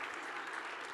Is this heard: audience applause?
yes